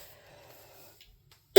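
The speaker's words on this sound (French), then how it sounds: "3 semaines après, je tousse toujours autant, c'est un enfer" A person with a cough that has lingered for three weeks lets out one sharp, loud cough right at the end, after a stretch of quiet indoor room tone.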